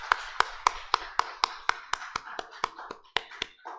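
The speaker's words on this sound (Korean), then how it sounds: "영광의 박수 올려드리겠습니다." Hands clap in a steady, evenly spaced rhythm during a church worship service, about fourteen sharp claps that stay close and moderately loud.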